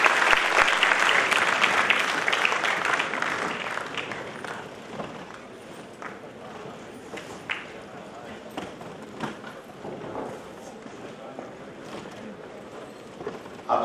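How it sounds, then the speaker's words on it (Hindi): An audience applauds loudly to welcome the Governor of Haryana at a public event against drug abuse. The clapping is full and sustained at first, then thins and fades to scattered claps. "आप सभी खड़े होकर जोरदार तालियां बजा सकते हैं।"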